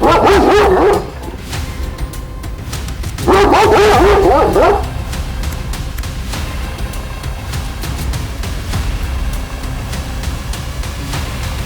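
A dog barks in two loud, rapid bursts during a confrontation, then quieter scattered yips and whimpers continue in the background.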